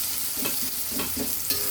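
Ginger, garlic and cumin paste stir-fried in oil without water for a Bogura-style potato dish: a steady close sizzle broken by rhythmic scraping strokes of a spatula against the pan, with no one speaking.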